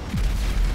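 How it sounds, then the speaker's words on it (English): A car bomb set off in GTA 5: a deep, heavy boom with a low rumbling roar that holds steady and loud for the brief moment, without voices. "What an explosion!"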